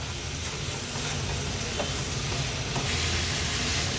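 Raw mango and prawns are stirred in a pan over a high flame for an Agri Koli style sukka, giving a steady, close sizzle and hiss with faint scraping.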